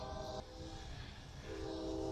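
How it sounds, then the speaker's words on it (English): A train whistle sounds faintly from the tracks near a cemetery at a former Civil War prison, with low, sustained horn tones that come and go over a quiet, rumbling outdoor background. "hear the whistle of a train going down the tracks"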